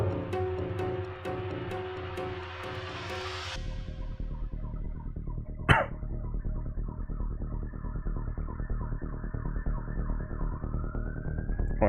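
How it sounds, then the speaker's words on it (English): Police sirens wail outside on a London street, steady and fairly loud with a sharp transient midway, continuing alone without voices as the wail rises toward the end. "I hear police sirens"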